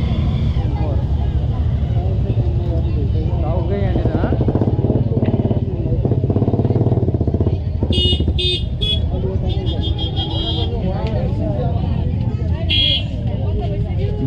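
A motorcycle with a failing clutch idles and revs in a dense traffic jam on the road to White Gumba, engine rumbling close amid car and bus noise, repeated horn toots, and people talking nearby.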